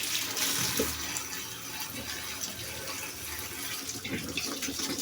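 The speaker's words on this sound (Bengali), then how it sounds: "এগুলো আচ্ছা ধুয়ে নিই একবারে" Tap water runs steadily into a sink as vegetable stalks are washed, a close continuous splashing rush with no voices.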